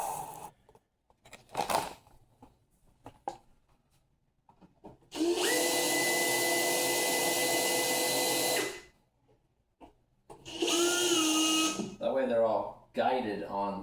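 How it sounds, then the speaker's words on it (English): Power drill driving fasteners while mounting something, a loud steady whir of about three and a half seconds followed by a second shorter burst with pitch shifts, with talk in the gaps between runs. "Maybe what we should do is get them all drilled down."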